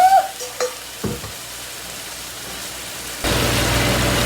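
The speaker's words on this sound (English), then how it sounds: "I'm going to get all the brown sugar mixed in and all the flavors together." Brown sugar and flavorings being stirred in a hot pan, with a few scraping clatters, then a sudden steady sizzle that swells near the end, close and fairly quiet with no talking.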